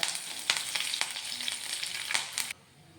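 Loud, steady sizzling of dried red chillies and curry leaves frying in hot oil for mango pickle, with quick stirring taps, cutting off abruptly near the end.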